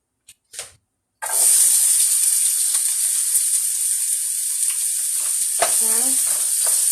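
Onion dropped into hot oil for Chinese shrimp fried rice bursts into a loud, steady, close sizzle after two brief knocks, with a stir and clatter near the end.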